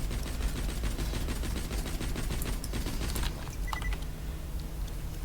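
Incendiary Jakobs pistol in Borderlands 2, a rapid string of sharp gunshots fired close and loud for about three seconds, then tapering into a few scattered pops and pings.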